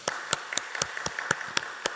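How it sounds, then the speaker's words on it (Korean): Steady rhythmic clapping at an early-morning church prayer service, about eight sharp, evenly spaced claps in two seconds, close and moderately loud, with no talking. "오늘 이 하루를 허락하신 하나님께 우리 영광의 박수, 감사의 박수 합시다."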